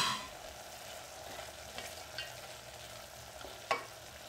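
A soft sizzle as chopped tomato fries in masala in a pan, steady and quiet, with a few light scrapes of stirring.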